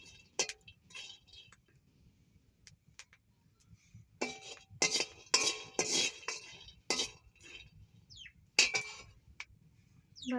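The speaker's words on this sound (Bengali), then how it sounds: "সেমাইয়ের জন্য আমি প্রথমে কটা বাদাম ভেজে নিচ্ছি। আর অল্প ভাজা নাড়বো বাদাম" Peanuts frying in a pan for semai are stirred with a metal utensil, giving scattered, irregular clinks and scrapes against the pan over a quiet background, with no talking.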